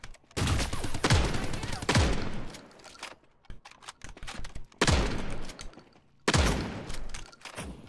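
Gunfire in the shooter game Ascendant comes in four heavy bursts of rapid shots, loud and close, separated by short gaps of quieter rumble.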